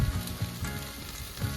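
Large land-clearing brush pile fire burning outdoors on a breezy day, a steady crackling, hissing roar of flames drawing in air, close and fairly loud with no talk.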